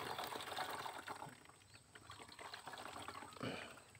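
Water is poured while a pesticide spray mix is prepared, a continuous splashing, gurgling flow that surges and eases, close by and moderately loud.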